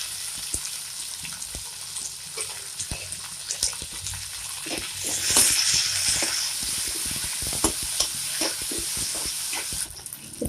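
Chopped tomatoes and green chillies sautéing in a pan after ginger and garlic, for mushroom sukka, with a steady close sizzle broken by scraping stirs and a brief louder hiss midway.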